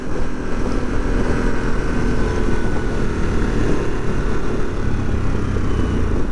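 2022 Harley-Davidson Sportster S motorcycle engine under way on a test ride, a steady loud rumbling drone mixed with rushing wind noise, continuous throughout with no speech.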